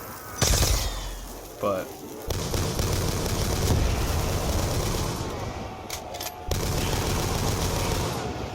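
Gunfire from a zombie video game on a farm map, a semi-automatic weapon firing a rapid, dense stream of shots over a steady game soundscape, with someone speaking briefly underneath.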